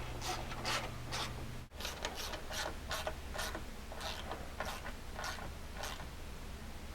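A quarter-inch drive ratchet clicking rapidly in repeated bursts while tightening bolts on a Ricochet skid plate for a 2020 Polaris Ranger 1000, close and steady over a low background hum.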